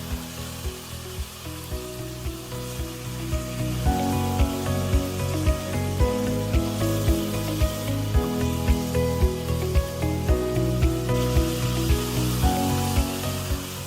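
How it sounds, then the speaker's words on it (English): Steady crackling sizzle of food frying in a pan, continuous and close, with rhythmic music playing loudly over it. "flavor is developing during the frying process"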